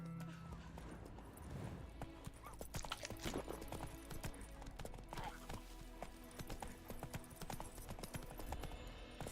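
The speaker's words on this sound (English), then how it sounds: "Run, Roach." A horse gallops in a video game, with steady clip-clop hoofbeats running throughout and an occasional whinny, under game music and intermittent talk.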